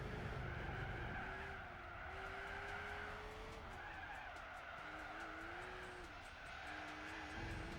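Tires skid and squeal as a car oversteers in the Gran Turismo 4 racing game, with a long wavering screech over a steady engine drone, loud and close throughout.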